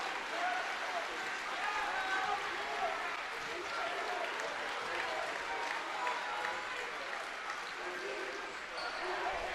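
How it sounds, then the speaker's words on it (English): Crowd cheering and applauding steadily at a Vermont Division 3 high school basketball final between Hazen and Williamstown, a dense sustained roar filling the gym, with squeaks and bounces faintly mixed in. "Crowd cheering"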